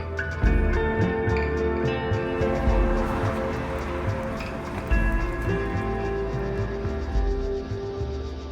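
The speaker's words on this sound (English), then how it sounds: "just started to rain as well." Rain falls steadily outdoors as a continuous soft patter, with a low steady hum and tonal background sound running underneath throughout.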